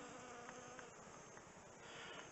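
A bee buzzes faintly and steadily along an overgrown nature path in Michigan in summer, a soft continuous drone over quiet outdoor background, with no talk.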